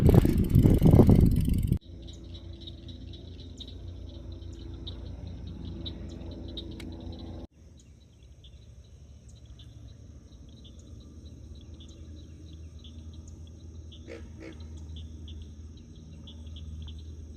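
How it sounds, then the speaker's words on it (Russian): Frog croaking at night in a forest, a steady chorus of high chirping calls alongside insect-like trilling, continuous and moderately distant, with a brief louder noise at the start. "Я думаю, кто так квакает?"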